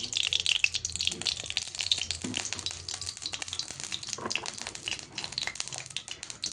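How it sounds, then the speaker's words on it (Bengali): Cooking oil sizzles and crackles steadily in a hot wok (kadai) on a home stove, with faint stirring or clinking scrapes now and then and no talk over it. "কড়াইয়ের মধ্যেও আমি এখন তেল দিয়ে দিব পরিমাণ মতো"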